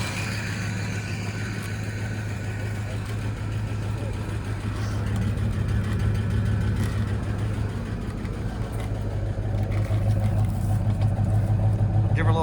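A Ford Fox Body Mustang engine idles steadily with a low, continuous rumble and a constant hum, rising slightly partway through; a voice talks over it.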